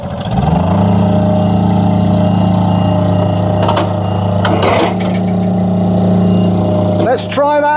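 A Spider 1890 Pro cherry picker runs with its basket moving forward, giving a steady loud droning engine hum with a strong low tone and a few knocks. Near the end the motor note shifts and rises sharply.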